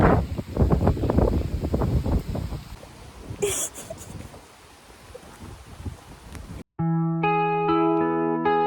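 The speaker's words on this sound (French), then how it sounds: "il y a beaucoup de vent" Strong wind buffeting the microphone outdoors, loud gusty rumble for the first few seconds then easing, before abruptly giving way to a musical tone at the end.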